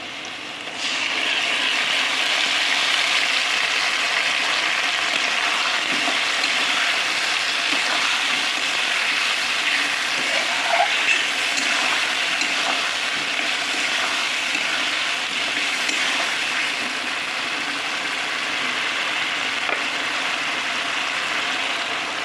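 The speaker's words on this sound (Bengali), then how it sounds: "মশলাটা যে বাটিতে ছিল সেই বাটিটা ধুয়ে একটু জলও দিয়ে দিলাম।" Water poured into a pan of fried, spiced potatoes for a jackfruit curry, a steady loud rushing hiss that runs unbroken for about twenty seconds, close by with no talking.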